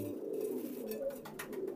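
High flyer pigeons at a breeding farm coo softly, a low, faint, steady murmur of calls across a brief moment with no talk.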